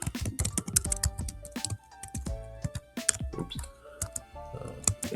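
Fast keystrokes on a computer keyboard while Python code is typed, with irregular clustered clicks close to the mic and steady bursts throughout.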